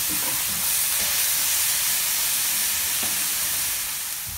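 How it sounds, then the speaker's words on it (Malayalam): Mutton dropped into half-fried shallots in a pan sizzles and hisses steadily, a fairly soft, continuous frying sound with no voices. "പകുതി മൂപ്പാകുമ്പോൾ നമ്മളിതിലേക്ക് മട്ടൺ ഇട്ട് കൊടുക്കും"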